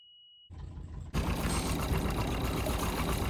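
A boat's diesel engine turns over after fuel-line bleeding and catches, settling into a loud, steady clattering run close by after a brief cranking start.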